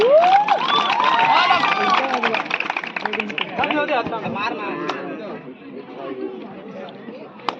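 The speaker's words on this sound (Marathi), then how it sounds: "12वी सायन्सच्या डिफेंडसाठी एकदा जोरदार टाळ्या वाजल्या पाहिजेत" A college kabaddi final crowd claps and cheers under loud excited chatter and an announcer's voice, with a dense burst of applause early that gradually thins out.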